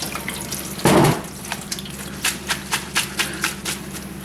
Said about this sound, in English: I'll put some more water to wash them all out, and also it'll cool them down, stop them from cooking anymore.